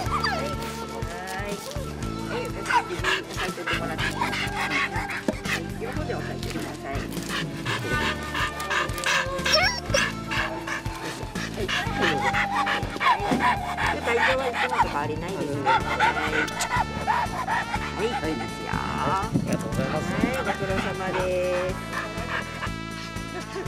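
At a rabies vaccination venue at Toyama City's public health center, a mixed-breed dog barks fiercely and repeatedly, with excited panting and yelps from other dogs. A person talks over the barking.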